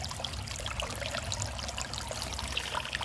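Cold stream water splashed by hand while hiking outdoors, a continuous close rush of trickling and splashing with light bubbly detail, steady and moderately loud with no talk.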